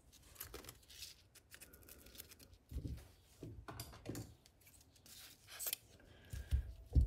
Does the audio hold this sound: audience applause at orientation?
no